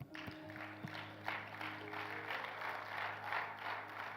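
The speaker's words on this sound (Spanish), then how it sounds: "Ahí hasta yo le doy un aplauso." Applause from a church congregation during a sermon, a soft, steady wash of clapping under a low organ or keyboard drone, fairly distant.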